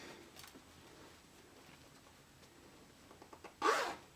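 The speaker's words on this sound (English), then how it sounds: "And zip up." A single quick pull of a zipper on a sewn zippered fabric bag near the end, brief and close, after a stretch of quiet rustling.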